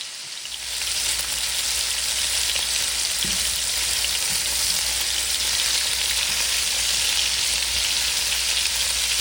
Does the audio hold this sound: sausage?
yes